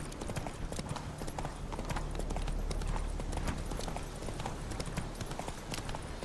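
Horse hooves clip-clop steadily and close at a riding pace along a path at night in The Witcher 3: Wild Hunt, over a constant low rumble of game ambience.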